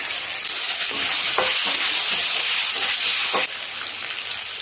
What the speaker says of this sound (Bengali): আলুগুলো ভাজা করে নেব।